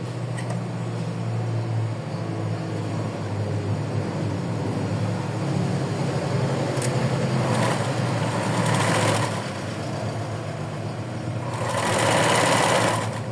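A sewing machine runs steadily, stitching a fold along the top seam of a doll's garment to form an elastic casing, with a continuous whirring hum that swells louder in a few bursts and no talking.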